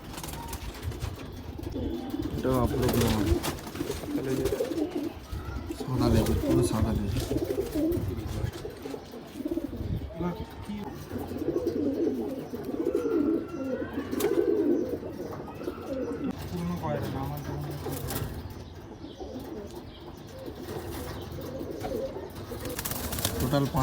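Pigeons at a sale in Ichapur, West Bengal, coo steadily in a low, layered chorus with occasional chirps and a brief wing flutter, while voices murmur faintly in the background.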